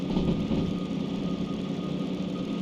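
A DM3 diesel locomotive engine in Derail Valley rumbles steadily right after the throttle is cut, a low even drone with faint knocking and no other sounds.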